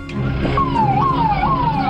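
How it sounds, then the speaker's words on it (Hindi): A police car siren wails from a blue-lit vehicle carrying an arrested politician, its tone sweeping down and jumping back up in repeated cycles, loud and steady over a dense background bed. "गायत्री प्रजापति पुलिस की सायरन बजाती नीली बत्ती की गाड़ी में बैठकर जेल पहुंच गया"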